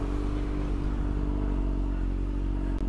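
A Kawasaki ZX6R 636 sport motorcycle idles and revs close by, a steady, loud engine drone with a low throbbing note that holds for the whole stretch, no voices over it.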